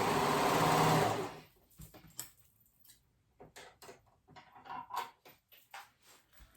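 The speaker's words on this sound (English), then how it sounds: "All right, I'm gonna go ahead and sew this one up" A sewing machine runs loud and steady for about a second while stitching knit fabric seams on a high-low dress, then stops, leaving soft scattered ticks and handling noises.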